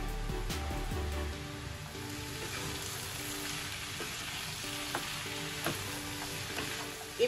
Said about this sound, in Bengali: লাউটাকে এবার ভালো করে নেড়েচেড়ে নেব